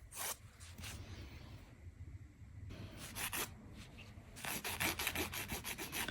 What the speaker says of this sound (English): I'm just trying this filing technique to see how I like it